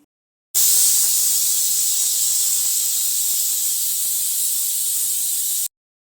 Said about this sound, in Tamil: குக்கருக்கு நான் 7 விசில் வச்சுக்கிறேன்.